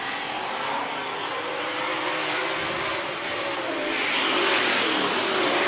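Late model race cars roar around the Amsoil Speedway oval in a steady, loud wash of engine noise that swells slightly toward the end, with no voices.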